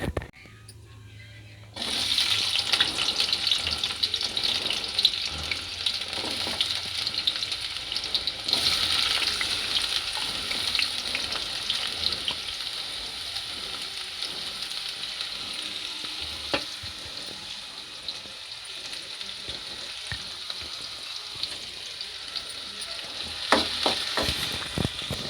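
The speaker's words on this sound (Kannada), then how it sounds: "ಈಗ ಎಣ್ಣೆ ಕಾದಿದೆ, ಇದಕ್ಕೆ ನಾವು ಈರುಳ್ಳಿ ಹಾಕೋಣ." Onions drop into hot oil for an egg masala, a sudden burst of loud sizzling after a quiet moment that then crackles steadily and close for a long stretch, with occasional stirring clicks and no talking.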